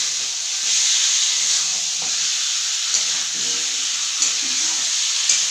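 Unmarinated chicken pieces fry in a pan at home with a steady, bright sizzle and hiss throughout, plus occasional soft clicks and stirring noises, close up and with no talking.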